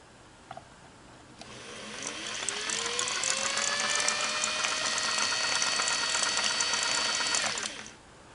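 A Singer 403A sewing machine's bobbin winder spins up and runs with a steady, close mechanical whir and faint ticking. It holds an even hum for several seconds, then winds down and stops.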